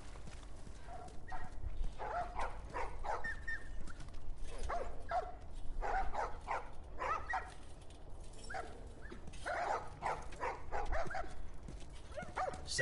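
Dogs bark, yip and whimper in The Last of Us video game, a chorus of fairly loud barks bursting repeatedly over steady background noise, with no one speaking.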